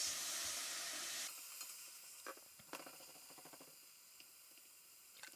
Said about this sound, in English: I rush to get my beef strips, and in they go with a nice sizzle.